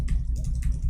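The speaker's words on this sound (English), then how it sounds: "I'm typing. You see, it's not working." Fast, light key clacks from a faulty computer keyboard, a quick rhythmic run of taps heard close up over a low background hum.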